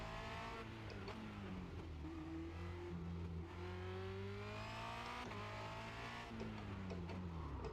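A Formula Renault 2.0 race car's engine screams through a lap at Circuit de Barcelona-Catalunya, revving hard with rising and falling pitch as it shifts, loud and continuous from the cockpit.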